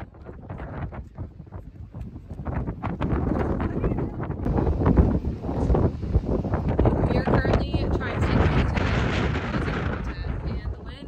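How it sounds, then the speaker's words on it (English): Strong wind buffets the microphone in loud, rumbling gusts throughout at a festival, with a voice faintly audible beneath the roar. "now my hair is crazy because it's super windy here"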